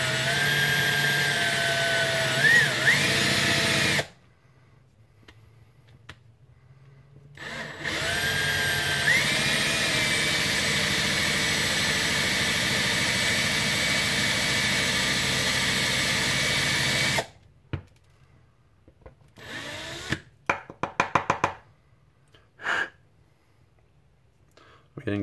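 A power drill whines loudly drilling through brass for a Nerf Retaliator breech, in long sustained runs, stopping and starting, with quiet gaps and scattered clicks and knocks between bursts.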